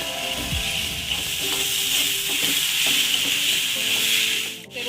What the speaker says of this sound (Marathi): आता आपण दोन मिनटं असं परतून घेऊया